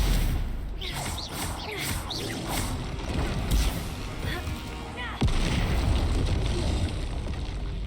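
Bombarda and Confringo spells burst in the Hogwarts Legacy video game, a dense run of booming blasts and crackling impacts with a sharp, louder explosion partway through.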